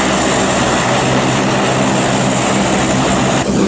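Lockheed Hercules L100 turboprop engine running up during start, a loud, steady broadband roar with a constant whine heard from inside the cockpit, no pauses.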